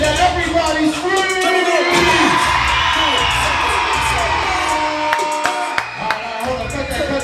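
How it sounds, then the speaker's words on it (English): Audience at a live charity event screams, cheers and whoops in a dense, loud roar that holds throughout, with shouting voices and occasional bangs mixed in. "They might be winning and everybody's screaming."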